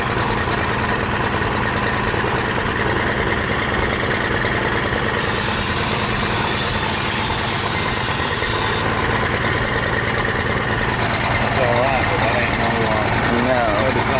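Small gasoline engine on a pressure washer idling steadily near the microphone, a continuous mid-pitched drone with a brief rise in revs near the end, with people talking over it.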